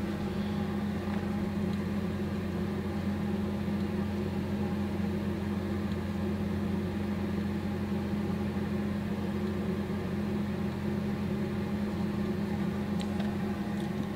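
An air fryer cooking bison burgers topped with cheese, its fan and motor giving a steady, unbroken hum with a whooshing airflow that holds the same level from start to finish, with no talking.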